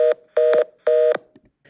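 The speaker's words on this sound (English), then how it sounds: "there's a busy tone" Telephone busy tone as a sound effect: three loud, steady electronic beeps in an even on-off rhythm, alone with no talk.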